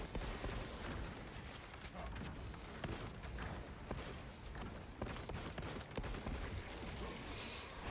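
Heavy bolt pistol gunfire in the Warhammer 40,000: Space Marine 2 video game, repeated thudding shots and impacts in a dense, continuous combat din, faint overall.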